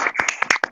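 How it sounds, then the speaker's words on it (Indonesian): Brief burst of claps from a 4th-grade class (4A) during an online lesson, several separate sharp slaps in an uneven patter, close and fairly loud, with no talking. "Beri tepuk tangan untuk kita semua."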